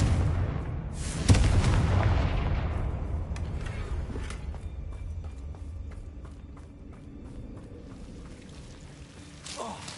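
A Confringo fire spell bursts in Hogwarts Legacy with a sharp booming blast early on, followed by rumbling debris and scattered crackling combat effects that slowly die away, with a second hit near the end.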